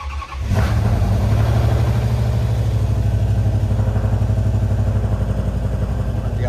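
A turbocharged V8 engine in a police car cranks and fires up, then settles into a loud, steady, throbbing idle close by with no voices.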